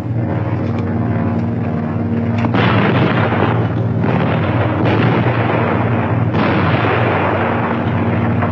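A cartoon anti-aircraft gun fires a heavy, continuous barrage of booming blasts and rumbling bursts in a loud war scene, with no speech.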